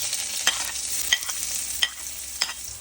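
Onion, ginger and garlic sauté in hot oil in a kawali until golden brown. A steady close sizzle runs throughout, with a stirring scrape cutting in every half second or so and no talk.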